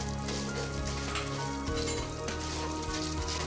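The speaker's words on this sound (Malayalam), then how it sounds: "എടുത്തു വെച്ചിരിക്കുന്ന ഉഴുന്ന് പൊരിച്ചിട്ട് കൊടുക്കാം" Urad dal and cashews frying in hot oil give off a dense, continuous crackling sizzle, close and fairly quiet, with no talking.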